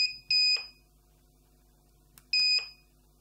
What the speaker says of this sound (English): When the remote is working properly, the central unit is making a beep sound